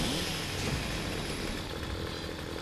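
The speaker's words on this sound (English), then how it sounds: "Chainsaw's at the ready, guys." A chainsaw revs steadily in the video game Gears of War, its buzzing drone loud and continuous for a couple of seconds with no talk over it.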